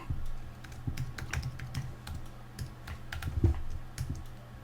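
Someone types a password on a computer keyboard: a run of soft, close, irregular keystroke clicks over a quiet room hum, with no speech.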